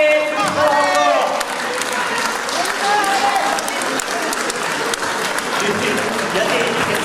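Crowd at a French Cap Fraternité event applauding as children walk out, a continuous dense wash of clapping with some cheering and voices mixed in.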